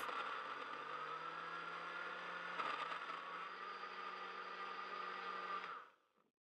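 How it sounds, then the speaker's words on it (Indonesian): A blender pureeing cassava with water whirs in a steady, loud, continuous drone at close range, running unbroken for nearly six seconds before cutting off. "Sekarang kita blender singkongnya sampai halus."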